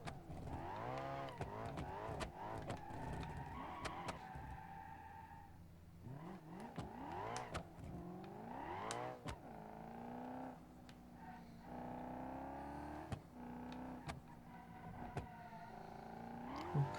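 A BeamNG.drive 200BX car engine revs hard and wails through repeated burnouts, pitch sweeping up and down with screeching tires, loud and continuous for the whole stretch.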